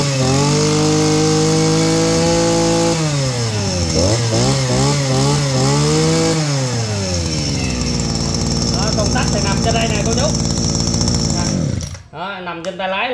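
Japanese-made Makita 4-stroke brush cutter engine runs loud and close, pitch wavering as the throttle is worked, then winds down and cuts off near the end.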